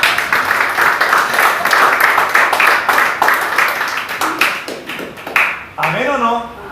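Church congregation clapping together in steady, rapid applause through most of the moment, loud and close, with voices mixed in and a singing or calling voice rising near the end.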